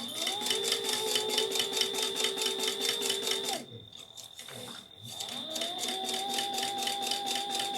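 A sewing machine stitches the lining seam of a yarn project bag, running in a steady fast chatter for a few seconds, pausing briefly, then starting up again at close range.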